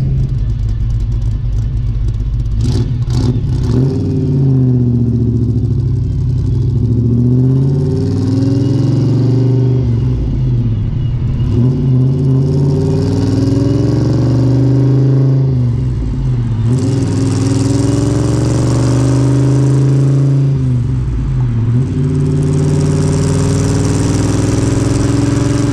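A 327 small-block V8 in a 1966 Chevy II SS with dual four-barrel carburetors idling with a deep lumpy burble, repeatedly revved up with rising roars that drop back to idle, loud and close.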